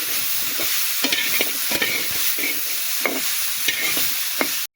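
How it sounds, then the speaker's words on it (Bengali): Potato, beetroot and onion fry together in a pan under a constant close sizzle, with a rhythmic series of spatula scrapes and knocks from stirring, and no talk. "আলু আর বিটরুট যখন আমি ভাজবো এর সঙ্গে আমার পেঁয়াজটাও ভাজা হয়ে যাবে একসঙ্গে"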